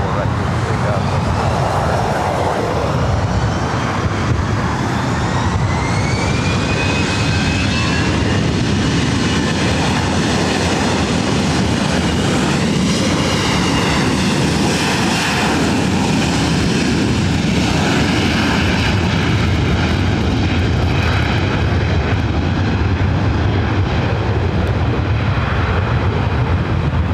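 An airliner takes off from runway 24 right at LAX, a loud, sustained engine roar that swells and fills the whole span with a rising whine, while a person talks over it.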